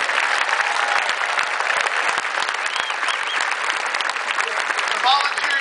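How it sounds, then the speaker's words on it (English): A large crowd at a political rally in Arizona breaks into sustained applause, dense and continuous clapping with cheering voices mixed in, loud and full throughout. "Everybody give them a round of applause."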